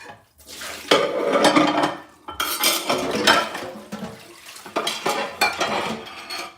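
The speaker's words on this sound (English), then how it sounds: "we're gonna wash these dishes." Dishes and cutlery get washed, with ceramic clinks, metal utensils clattering and scraping, and splashes of water arriving in busy, uneven bursts close at hand, with no talking.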